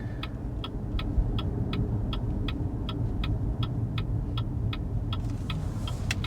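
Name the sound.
BYD Seal car turn indicator ticking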